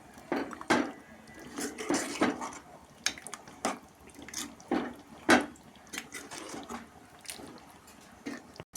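Water is poured into a pan of home-style chicken gravy and stirred. Sharp, close clinks of a utensil on the pan come in irregular bursts over a soft wet background, with no speech.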